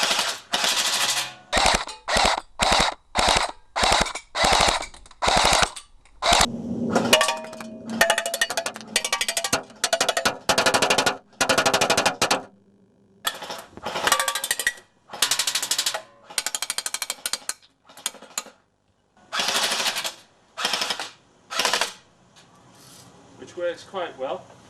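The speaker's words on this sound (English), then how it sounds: "this is my homemade version of the PPSH-41, which you've seen me fire before" A homemade PPSH-41 replica submachine gun firing in rapid bursts, loud, close and sharp, with short pauses between the strings of shots and some talking in the gaps.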